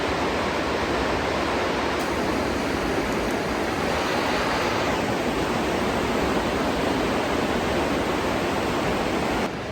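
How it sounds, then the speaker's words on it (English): A rushing river beside abandoned railroad tracks in woodland, a continuous loud broadband roar of flowing water that stays even and unbroken throughout. "That river is rushing."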